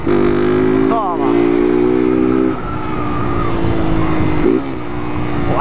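A car engine revving in steady loud tones with rising pitch sweeps as it accelerates, then drops back and blips again, close and dominant throughout.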